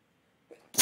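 A single close, loud sneeze bursts out suddenly at the very end after near silence and a small intake of breath.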